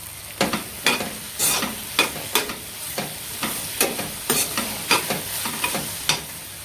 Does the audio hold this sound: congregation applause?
no